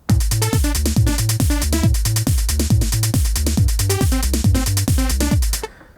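A looping electronic drum-machine pattern from a Roland MC-909 Groovebox sequencer, with steady kicks and clicky hi-hats under a repeating synth bass line, playing loud and even for several bars before cutting off.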